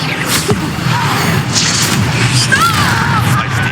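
In Hogwarts Legacy the Depulso spell is cast with a heavy booming thump and whooshing magical swells. Battle noise and a short spoken voice sit over it.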